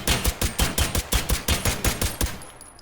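Rapid, evenly spaced gunshots, about a dozen loud close shots in a steady rhythm, fired at a target in the VR shooter H3VR, ending in a brief ringing tail.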